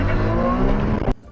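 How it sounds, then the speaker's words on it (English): A Ferrari 296 six-cylinder exhaust blares in a loud, sustained rev with steady engine tone, then cuts off abruptly near the end, leaving brief quiet. "is that the 296 exhaust?"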